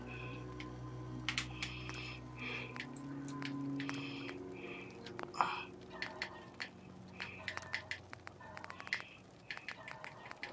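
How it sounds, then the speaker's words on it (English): Faint clicking of typing on a computer keyboard comes from the background in a home room. Soft irregular key taps sit over a steady hum and low Fallout 4 game sounds, with no clear talking. "wife is typing in the background"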